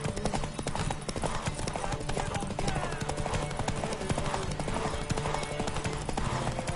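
Horse hooves clip-clop steadily in The Witcher 3, a continuous trotting rhythm close by, mixed into dense game ambience and music.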